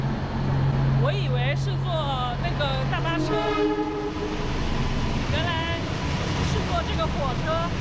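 A train rolls along with a steady low rumble and rail noise throughout, while passengers chat over it at close range.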